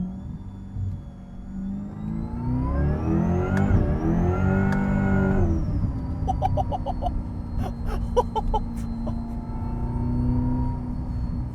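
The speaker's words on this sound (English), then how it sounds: "you get the supercharger whir like whine right behind your ear." A supercharged V8 in a Corvette C8 E-Ray accelerates, its steady engine drone rising and shifting in pitch, with a thin high supercharger whine riding above it and a few clicks and ticks over the top.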